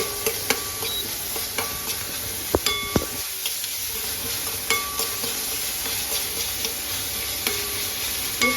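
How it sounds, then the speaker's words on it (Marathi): Chopped onion and salt sizzle in hot oil in a pan while a spoon stirs and clinks against the metal in a steady rhythm, close and fairly loud, with no talking. "तेल टाकल्यानंतर मध्ये टाकूया कांदा"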